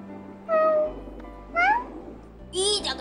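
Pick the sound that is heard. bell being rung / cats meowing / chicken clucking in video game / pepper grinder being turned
cats meowing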